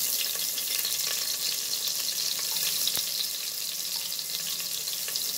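Chopped onion frying in hot oil in a home kitchen pan for tomato rice, a steady close hiss and sizzle with faint crackles running evenly throughout, no voices.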